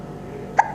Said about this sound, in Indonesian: Ya, cegukan dia.